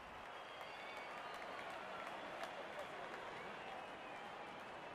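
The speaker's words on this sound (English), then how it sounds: "Crowd on their feet to cheer the moment." A cricket stadium crowd at a Sri Lanka vs Bangladesh Asia Cup one-day international applauds a boundary four, with dense, steady, distant clapping and cheering and a commentator talking faintly over it.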